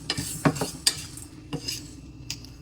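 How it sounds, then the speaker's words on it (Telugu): A spoon clinks and scrapes against a pan while fenugreek seeds are fried for a fish curry spice mix, producing a handful of sharp metallic taps over a faint background. "ముందుగా కొంచెం మెంతులు వేసుకొని ఫ్రై చేసాను"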